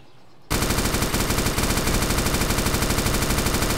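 Gunfire in the video game DayZ Origins, a sudden loud start into one unbroken stream of rapid automatic shots, steady and close.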